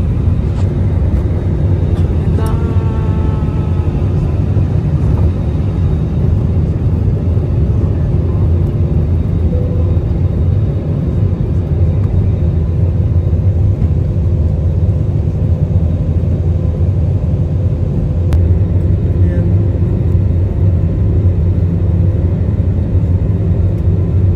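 Steady, loud cabin rumble and engine whir from a seat beside the wing at the emergency exit of a passenger airplane, a constant low drone with faint brief voices.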